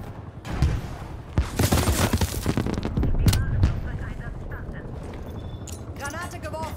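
Gunfire and battle noise from the video game Call of Duty: Black Ops Cold War in a team deathmatch, with bursts of shots and explosions over a constant helicopter-like rumble, while a player talks throughout.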